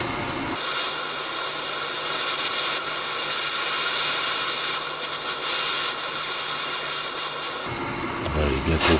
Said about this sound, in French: Donc là, je chauffe mon tournevis là au rouge